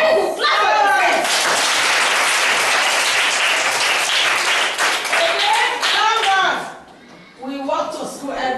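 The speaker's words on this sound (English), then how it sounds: "Clap for yourself." Schoolchildren in a classroom burst into loud, dense applause that lasts several seconds, fades briefly, then picks up again, with adult and children's voices around it.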